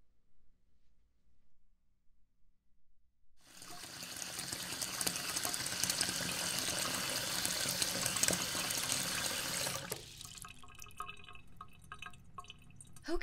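Tap water gushes into a bath in a steady, full rush that begins after a few seconds of near silence and cuts off near the end, leaving faint drips in a quiet room.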